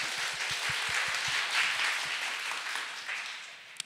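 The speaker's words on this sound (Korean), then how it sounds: "박수 부탁드립니다." An audience at a literary festival talk applauds a poet, a dense continuous patter of many hands clapping at moderate distance, steady throughout and ending with a single sharp knock.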